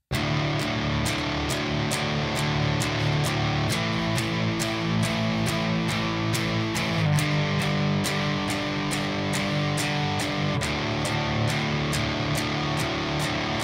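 Loud electric guitar chords struck with even downstrokes in a steady rhythm, changing chord every few seconds, played alone without talk.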